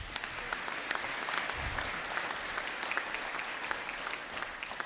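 A graduation conferring ceremony fills with steady applause from a large audience, dense and continuous throughout with scattered sharper claps standing out.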